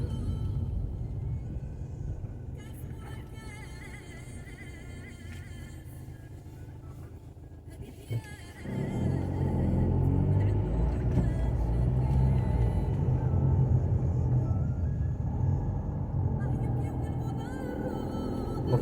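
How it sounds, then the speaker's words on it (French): Road traffic in a town district of the capital of Vendée at evening rush hour: a steady low rumble of many cars, growing louder and denser partway through as vehicles pass close by. "il y a pas mal de voitures sur la route"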